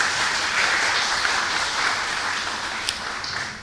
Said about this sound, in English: please stand and give her a round of applause.